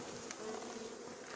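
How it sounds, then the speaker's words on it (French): A honeybee swarm being carried for rehoming buzzes in a steady, dense hum, faint and continuous, with a few individual bees droning a little closer. "Les autres abeilles elles viendront avec moi."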